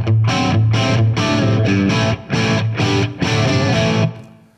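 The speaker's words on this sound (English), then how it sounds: "We've got a low gain rhythm sound, sounds like this." An electric guitar runs through a Suhr Eclipse overdrive pedal set for low-gain rhythm, playing loud, mildly distorted chords in choppy strummed bursts with brief gaps, ending on a ringing chord that fades out.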